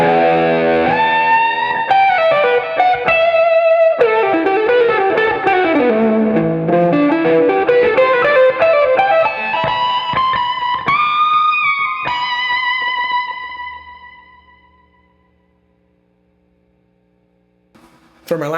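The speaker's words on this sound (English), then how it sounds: "Now let's add in the tube driver and add the post mic reverb that we used in the last section as well." An electric guitar plays a fast, flowing lead line through a setup with a tube driver overdrive, Echoplex and post-mic reverb. The notes are bright and sustained, then fade into a long decaying tail before a brief sound at the end.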